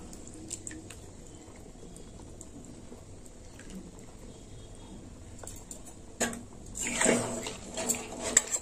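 Coconut milk pours into a pointed gourd curry in a pan, a faint trickle and drip at first that swells into a fuller, louder liquid splash near the end, close by and without talk.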